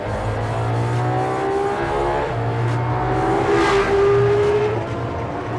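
A race car driven fast around a track, its engine holding a steady drone with rising revs and tonal whine, loud and continuous throughout.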